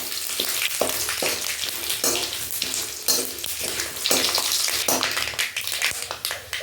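Spices crackle and hiss in hot oil, a dense sizzle punctuated by sharp pops and stirring scrapes, steady and close with no talk.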